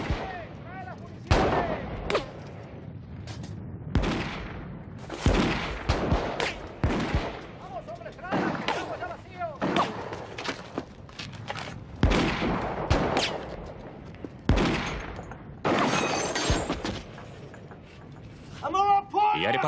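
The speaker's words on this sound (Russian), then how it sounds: "Прекратите стрельбу." Film gunfire fills a chaotic battle scene in Zaragoza, Spain: loud, close bursts of rifle and machine-gun shots and heavy volleys in irregular clusters, with voices shouting in between.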